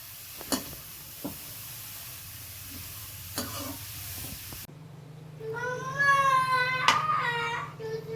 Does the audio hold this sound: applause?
no